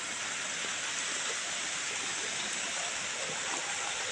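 Creek water flows steadily near a footbridge by a small farm, a continuous broadband rushing wash with no speech over it.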